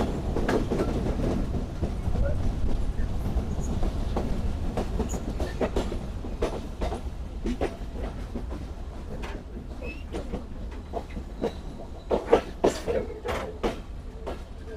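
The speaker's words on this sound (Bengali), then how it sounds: "আমাদের ট্রেন প্রবেশ করছে আরানি রেলওয়ে স্টেশনে।" Banglabandha Express passenger train pulls into Arani railway station in Bangladesh. Heard from on board, a loud rumbling roll carries a steady run of rhythmic wheel clacks over rail joints, with the sharpest knocks near the end.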